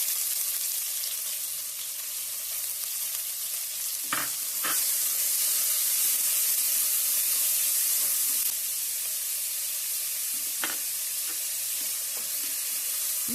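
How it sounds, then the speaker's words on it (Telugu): Green chillies and onions fry in a pan with a loud, steady hiss of hot oil close by, broken by a couple of brief clicks and scrapes of stirring. "ఇది కొద్దిగా ఎర్రగా వేగనిద్దాం"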